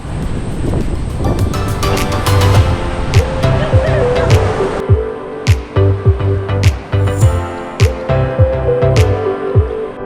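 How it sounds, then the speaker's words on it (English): Ocean waves rolling and washing in on Sumba Island, Indonesia, heavy wind buffeting the microphone, with people talking and shouting over the surf. "Nice kind of rolling waves coming in."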